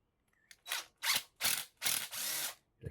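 Screw being backed out of a scrap brass faucet with a power driver: five short bursts of whirring and grinding separated by brief pauses, close and fairly quiet, with no talk.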